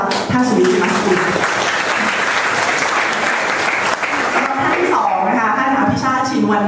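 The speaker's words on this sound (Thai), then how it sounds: "ขอเสียงปรบมือต้อนรับท่านสุวิทย์สิมาสกุล" An audience applauds to welcome a speaker at a Thai diplomacy seminar, sustained loud clapping from a crowd over several seconds while a voice talks over it.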